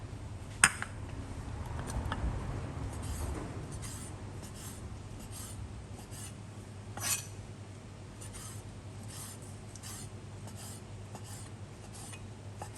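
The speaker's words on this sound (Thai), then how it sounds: "จากนั้นเราก็จะมาหั่นกุ้งค่ะ" Light scraping and tapping of a knife cutting shrimp on a cutting board, a few sharper clicks standing out over a low steady hum in the background.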